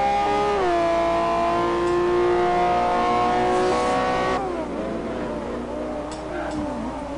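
A Camaro race car in a racing video game revs hard through its gears, a loud, steady engine whine that climbs and drops with each shift as it is thrown through corners.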